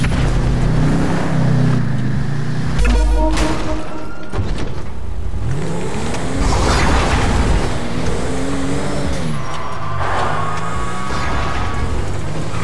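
A car in GTA roleplay revs and accelerates loudly and continuously, its engine pitch sweeping up and down through gear changes, with collisions and thumps scattered throughout.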